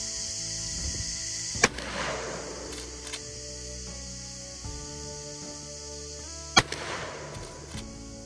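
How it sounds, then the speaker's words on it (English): A Henry .45-70 Gov't side gate brass lever action rifle fires two sharp, loud reports about five seconds apart, with faint mechanical clicks and knocks of the lever action in between, and no talking. "that was some experience shooting those first four rounds"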